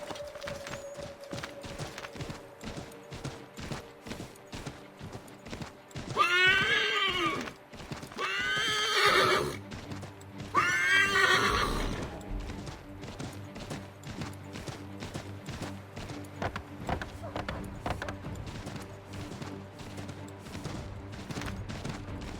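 A horse in Assassin's Creed III whinnies loudly three times in shrill, wavering cries, with the steady clip-clop of hooves running beneath and continuing after.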